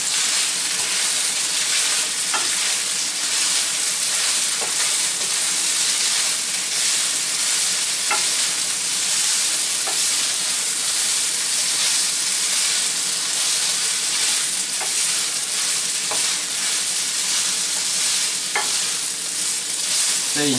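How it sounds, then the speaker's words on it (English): Garlic prawn pasta sizzling and frying in a pan while being stirred, a loud steady hiss with scattered scraping and clinking from the utensil throughout, no voices. "I'm going to stir it."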